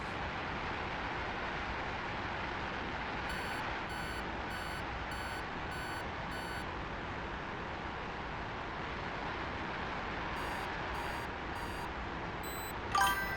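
Radar warning receiver beeps inside a cockpit in the DCS flight simulator: short, high, evenly spaced beep bursts repeat in two clusters over a steady engine and air roar, moderately faint.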